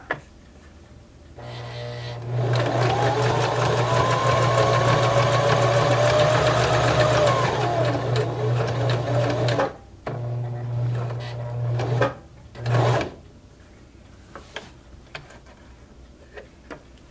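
A sewing machine runs a steady, close whirring stitch for several seconds while sewing on a model ship build, stops briefly, then makes a shorter second run and one quick final burst, with quiet handling noises around it.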